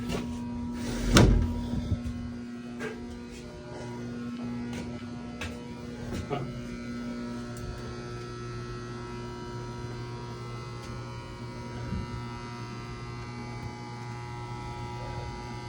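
Steady electrical hum with a constant low buzz fills an elevator machine room, continuing evenly throughout with a brief knock near the start and a voice heard over it.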